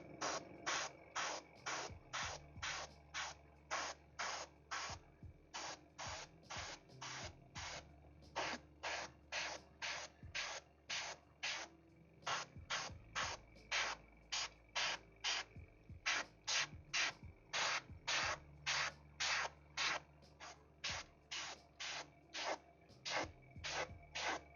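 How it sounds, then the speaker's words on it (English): Spray paint goes onto a scale model at a hobby bench in dozens of short, evenly repeated hissing bursts, close and crisp, separated by brief pauses over a faint background hum. "Well, that's spraying real nice."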